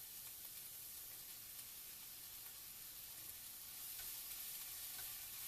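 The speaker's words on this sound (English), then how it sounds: "Let's add in our greens" Greens go into a hot pan of browned mushrooms and onions, giving a steady, even sizzle and hiss close up, with no talking over it.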